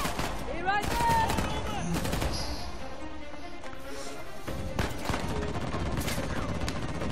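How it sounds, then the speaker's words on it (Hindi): Uncharted: The Lost Legacy firefight with repeated sharp gunshots and bursts crackling across the scene, loud and close, with a voice talking over it at times. "और इधर तो गोलियां पहले जा रही है।"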